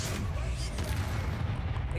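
A Bombarda spell explosion in Hogwarts Legacy rolls out as a sustained, heavy low rumble with a muffled blast texture that holds steady for about two seconds.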